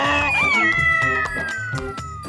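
A cartoon cat in an animated Hindi children's story lets out a long, drawn-out meow that slides downward in pitch, heard close and clear over soft background sounds.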